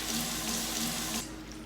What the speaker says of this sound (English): So wash up your cauliflower.